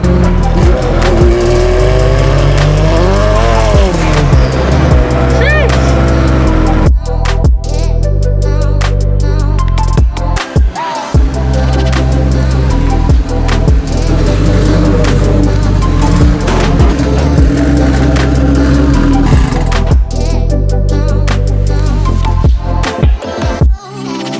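A turbocharged Honda B18C engine with a new intake pulls hard on a dyno, a loud sustained roar with rising and falling engine tone, a brief lift near the middle, then revving on through to the end.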